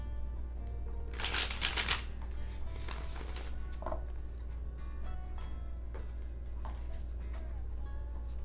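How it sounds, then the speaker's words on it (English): A tarot card deck riffled and shuffled by hand, with two loud bursts of rapid card flutter followed by softer taps and slides of cards, close over a steady low background hum. "Shuffling tarot decks is something that I feel like really helps with my OCD"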